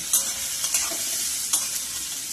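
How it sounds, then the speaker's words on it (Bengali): Onion frying in mustard oil keeps up a steady close sizzle while a spatula stirs it, adding three or four quick scraping strokes. "পেঁয়াজটাকে এবার ভেজে নেব"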